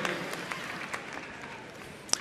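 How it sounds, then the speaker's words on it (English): Faint, distant applause from an audience, a soft wash of scattered clapping that stays low and steady throughout, with one brief sharper clap near the end. "Yeah, you can clap for that."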